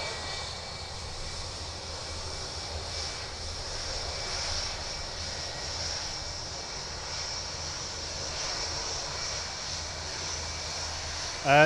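Etihad jet airliner engines at Manchester Airport give a steady, moderately loud broadband roar that holds evenly throughout with no voices.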